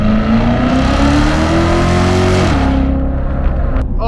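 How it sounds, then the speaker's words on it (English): Interior of a Chevrolet Corvette C7 Z06 under hard acceleration, a loud, rising engine roar that climbs steadily then drops at an upshift, heard from inside the cabin. "the sound in the interior when you're accelerating, it literally sounds like there is a demon behind you"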